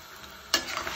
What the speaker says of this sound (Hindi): अच्छे से आप भूनिए मटन को ताकि जो मथानिया रेड चिलीज का